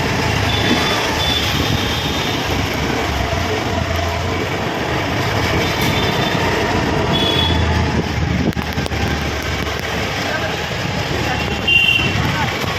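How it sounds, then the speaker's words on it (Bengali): A noisy vehicle engine runs steadily close by, a loud continuous rumble with occasional brief beeps, as voices talk over it throughout. "এত আওয়াজ করছে গাড়িটা"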